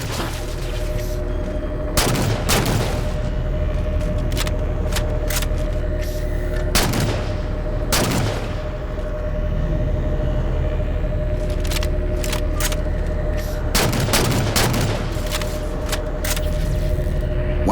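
Bursts of gunfire ring out in a Halo 4 cutscene, sharp cracks and volleys clustered in several bursts over a constant low rumbling drone, loud and close.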